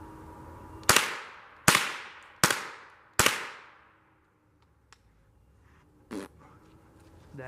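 A .22 LR rifle fires at a shaving cream target outdoors, four sharp loud cracks about a second apart, each with a short ringing tail, then a fainter later pop and quiet rustling.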